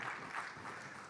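Church congregation applauding during an online worship service, a faint, steady patter of clapping with no distinct voices, lasting about a second.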